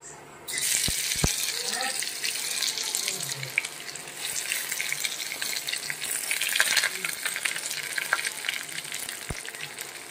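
Chillies and mustard seeds tempered in hot oil, a steady close sizzle with scattered pops and crackles running throughout while someone talks.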